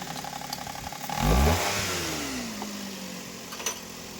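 A Suzuki Celerio car engine, running again after repair following a year of not starting, revs up briefly and then settles into a smooth, steady idle, heard up close with no talking.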